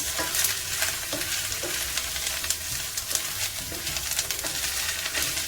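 Meatless ground sizzles in a pan of seasonings as it is stirred, a dense, close crackle with scraping strokes at an uneven rhythm, and no voices.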